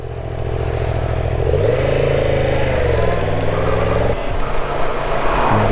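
A car approaches and passes close on a road, a loud engine drone rising and falling in pitch over a few seconds amid wind noise, with a motorcycle engine running alongside.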